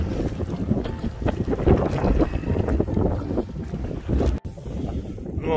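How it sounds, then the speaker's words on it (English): Gusty wind buffeting the microphone on a whitecapped lake during a packrafting trip in Wapiti Lake Provincial Park, loud and continuous with a sharp dropout near the end. "Wind's picking up pretty good."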